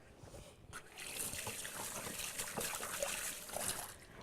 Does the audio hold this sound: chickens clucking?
no